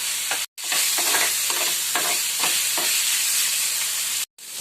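Tomato tossed into onion masala in a hot pan sizzles loudly and steadily, with stirring scrapes on top and brief silent breaks near the start and end.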